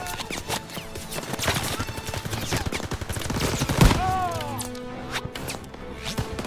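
Gunfire in Call of Duty WWII, rapid rattling shots and sharp cracks mixed with other busy game effects, moderately loud with a stronger burst near the middle.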